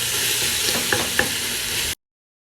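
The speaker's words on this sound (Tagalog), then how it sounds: "O mga sis, na sasutay na po ang ating meat." Minced lamb sautéing in a pan with ginger garlic paste gives a steady, close sizzle with a couple of brief stirring clinks, then cuts to silence near the end.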